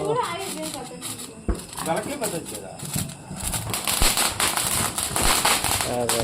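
Diwali firecrackers bursting outdoors, with sharp cracks and pops scattered among crackling, while people and children talk and shout throughout.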